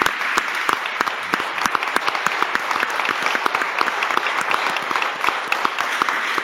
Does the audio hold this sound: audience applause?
yes